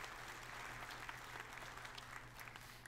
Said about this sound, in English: give a big round of applause to all the volunteers